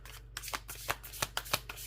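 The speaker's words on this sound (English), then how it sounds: "These cards are not shuffling nice for me right now" A deck of cards is shuffled close by, giving a quick series of soft riffling bursts and taps, faint and uneven, with no talking.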